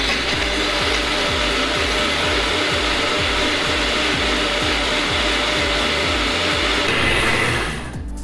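A blender whirs loud and steady, blending a fruit and vegetable smoothie with hemp milk, a continuous motor roar with a churning pulse that runs for several seconds before spinning down at the end.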